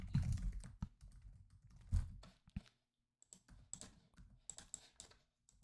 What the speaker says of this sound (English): I'm trying to type and you press a key on the keyboard and it does not work